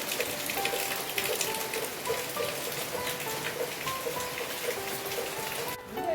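Steady rain falls on a rural village morning, a dense continuous patter on surfaces with faint dripping tones, with no voices.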